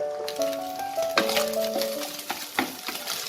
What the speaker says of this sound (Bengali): এবার এই ডিমটা থেকে আমি ভুজি বানিয়ে নেব।